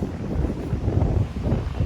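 Strong gusting wind buffets the microphone outdoors in a dense, low, continuous roar for a brief moment, with no voices.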